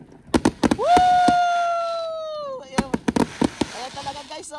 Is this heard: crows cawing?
no